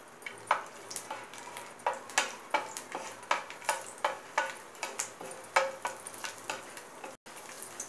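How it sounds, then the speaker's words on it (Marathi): Garlic and ginger frying over a medium flame in a pan for prawns masala: a steady sizzle hiss with regular scraping stir strokes about every third of a second, close and clear, with no voices. "त्यामध्ये मी लसूण आलं टाकलेलं आहे, थोडंसं लालसर परतून घेते।"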